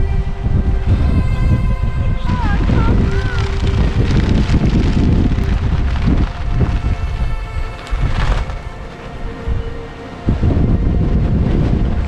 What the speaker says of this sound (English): Black windy beach.